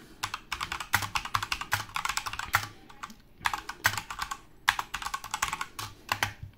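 Rapid typing on a Drevo Tizona mechanical keyboard with red switches, close and crisp, keystrokes coming in quick bursts separated by short pauses.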